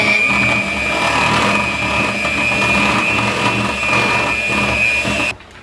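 An electric hand mixer whirs steadily with its beaters as vanilla is blended into a pie filling. The motor hum is loud and close, runs without a break, then cuts off abruptly near the end.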